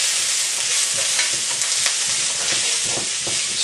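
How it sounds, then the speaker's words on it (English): Stirring a dry wild garlic mixture with cumin, coriander and black pepper in a hot pan, a loud, continuous hiss and sizzle with soft scraping strokes up close. "Stir it for a couple of minutes."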